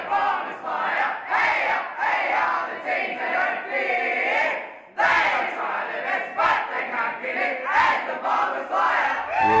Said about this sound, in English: hear that the boys singing the song.